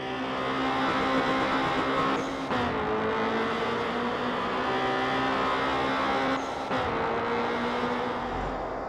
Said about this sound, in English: The engine sounds in this game are amazing.